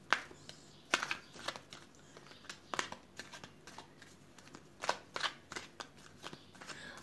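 A deck of cards shuffled for a card reading, with several quick riffling bursts and soft handling taps scattered across the stretch, close and fairly quiet, with no talk.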